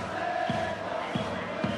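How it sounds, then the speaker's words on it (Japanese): A steady roar of a large stadium crowd cheering in the baseball video game Power Pros 2024, for a Yokohama DeNA BayStars batter with two out and a runner on second, with a few dull bounces cutting through the constant noise. "大きな声援が届いています。"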